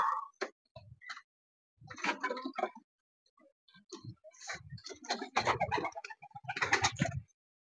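Giribaz pigeons coo and flutter in a loft in short, irregular bursts, close by, with soft wing and shuffling noises between the calls.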